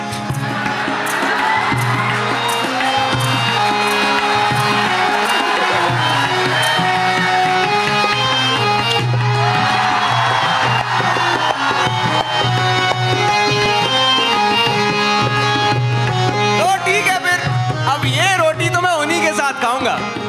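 A large festival crowd cheering and whooping at Jashn-e-Rekhta 2022, loud and continuous, with music and voices mixed through the roar and a few shouts standing out near the end.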